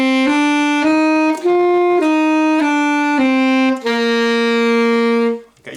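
An alto saxophone plays a short phrase of about eight clear, sustained notes close up: the first note is tongued, then the line slurs smoothly upward, with a final held note that fades out.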